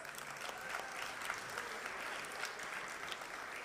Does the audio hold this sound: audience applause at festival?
yes